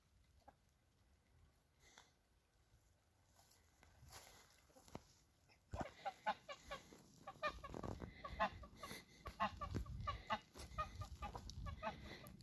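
Farmyard chickens cluck and squawk, faint and scattered at first, then louder and busier as the flock grows noisy alongside geese, with soft rustling throughout.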